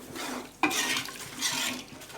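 Biryani masala is stirred with water in a pot for chicken biryani, soft scraping and sloshing strokes with a sharp metal clink of the spoon against the pot, faint and close, no talking.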